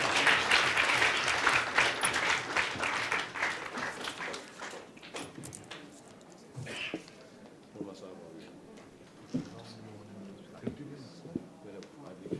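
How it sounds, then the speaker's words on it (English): An audience greets a speaker at a talk on Hinduism and science with applause that is strong at first and fades over several seconds, followed by a few scattered claps and faint talk. "Give him a big round of applause, please."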